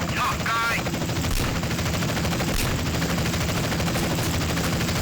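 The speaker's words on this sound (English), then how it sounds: "And I love how weak this country rifle is." Gunfire in Grand Theft Auto: San Andreas during a small-town bank shootout, with a country rifle among the weapons: a steady, dense clatter of shots running through the whole stretch, loud and layered over one another.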